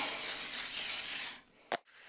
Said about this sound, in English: I've got some canola oil spray here. I'm just going to spray that just lightly